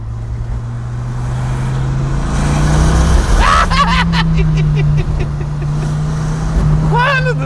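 A Dodge Viper RT10 sports car engine droning loudly and steadily, its pitch rising slightly as it pulls under throttle.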